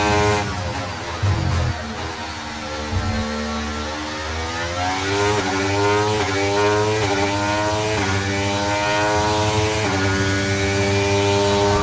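An F1 race car in the video game F1 23 accelerates hard, its high-pitched engine climbing through repeated gear-change sweeps, loud and close throughout with no talk.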